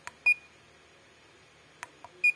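Quicko T12-942 soldering station buzzer gives two short high beeps, each a brief clean tone with a faint click, spaced about two seconds apart over a quiet background hum.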